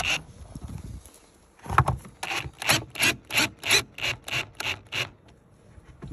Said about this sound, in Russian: Мы вот этим саморезом начинаем вытягивать доску с этой нитки.